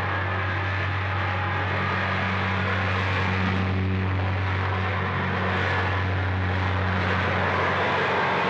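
Propeller airliners at the Orly airport pier in a 1962 French film soundtrack: a steady, loud engine drone and hum fills the whole stretch, with no talk.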